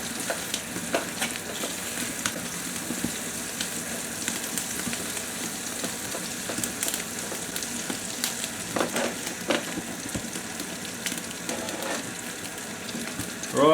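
Bacon sizzles and crackles steadily in a pan over a camp stove, a continuous close frying hiss with scattered pops and occasional stirring scrapes.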